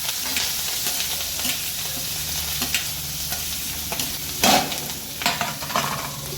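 Curry leaves and green chillies sizzling in hot oil with a little asafoetida, a dense steady crackle near the pan, with a sharper burst of spitting midway and a few smaller flares after.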